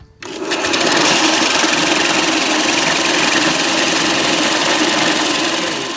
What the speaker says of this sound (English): what I'm going to do is now sand this down at an angle, not just straight